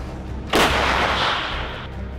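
Artillery shells fired in the Russia-Ukraine war, Donbass front: a single heavy, loud boom with a broad roaring blast that decays slowly over a second or two.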